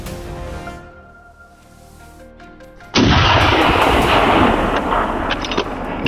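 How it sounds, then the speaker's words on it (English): A hunting gun fires at wild boar near an oak forest road, a single sharp, loud blast cutting in midway after a quieter stretch, followed by a sustained rumbling echo. "Another precise shot brought the prey down on the spot."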